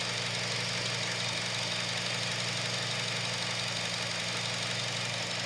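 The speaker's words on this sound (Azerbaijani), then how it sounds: "Mühərrik işləyir, hər şey qaydasındadır." A car engine idles steadily during a workshop diagnostic check, a constant even hum with faint rhythmic knocking and vibration and no voices.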